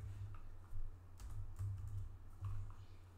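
Keys on a computer keyboard clatter in quick, uneven bursts close by over a low steady hum, as a diameter value is typed into CAD software while modelling a flange coupling.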